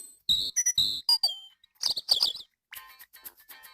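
European robin song played as a quiz sample: bright, high, varied chirps and thin warbling trills, separated by short gaps and heard clearly and close.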